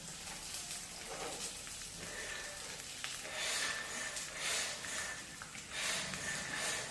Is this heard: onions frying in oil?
yes